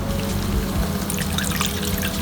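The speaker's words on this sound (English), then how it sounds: "I'm going to add a little water to it and add it to this" Water poured into leftover masala while cooking Bengali fish curry, a continuous splashing trickle over a steady low kitchen hum, with brighter droplet sounds toward the end and no talking.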